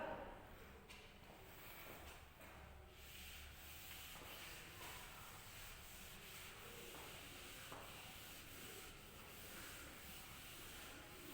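A board is rubbed clean of writing in a classroom with quick, soft scrubbing strokes that come in bursts, close but faint, with light room noise between.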